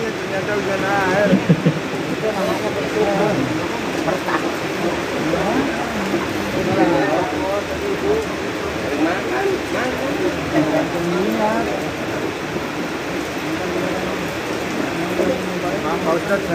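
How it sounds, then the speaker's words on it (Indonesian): Steady rain falls in a continuous, even hiss with a dense patter of drops, fairly loud throughout, while people talk over it. "Ternyata hujan air."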